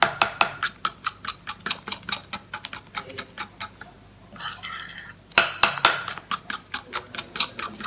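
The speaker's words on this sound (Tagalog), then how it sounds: "I-mix natin po siya mabuti hanggang sa mawala yung mga bubbles, ay yung buo-buo." Batter of glutinous rice flour for an oven-baked cake is stirred in a bowl, the utensil making quick, regular clicks and taps against the bowl side, broken by a short wetter swish before the rhythm resumes.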